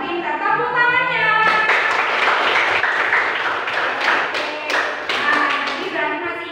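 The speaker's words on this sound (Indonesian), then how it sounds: "Tepuk tangannya." Students in a classroom break into applause, a burst of many hands clapping steadily and loudly for several seconds, with a teacher speaking before and after.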